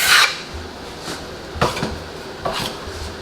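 A drywall taping knife drags across wet joint compound over tape on a wall, giving three short scraping passes spaced about a second apart, close and fairly quiet.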